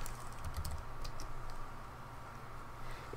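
Keyboard shortcuts typed on a computer keyboard, faint quick clicks and taps scattered over a steady background hum, with no voices.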